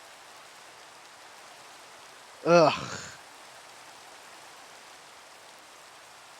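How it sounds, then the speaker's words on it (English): Rain falls in the Minecraft video game as a steady, soft hiss that runs without a break. A player briefly groans partway through. "Oh, and now it's raining. Gee, thanks, Minecraft."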